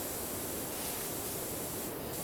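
A pressure washer sprays steadily across a ship's hull in PowerWash Simulator, a faint, even hiss of water spray running throughout without breaks or talk.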